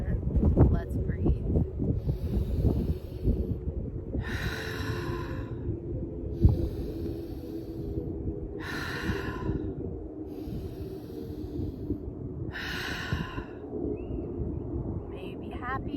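A yoga class closes with three slow cleansing breaths taken together, each a long airy exhale rising and fading with quiet pauses between, close to the microphone and without talk.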